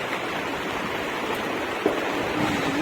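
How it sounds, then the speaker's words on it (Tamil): Heavy rain pours steadily and loudly around a lorry on the road, a dense continuous hiss with no voices over it. "நல்லாவே பெய்யுதுங்க, ஜோரா பெய்யுது."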